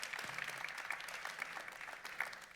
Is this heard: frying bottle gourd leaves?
no